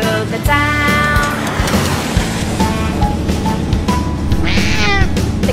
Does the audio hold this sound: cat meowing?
yes